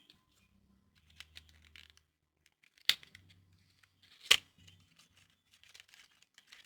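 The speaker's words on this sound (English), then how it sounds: "So let's get it out of the packaging here." A makeup pencil is pulled out of its packaging, giving sparse soft crinkles and tearing with two sharp snaps, close and quiet with long pauses between the sounds.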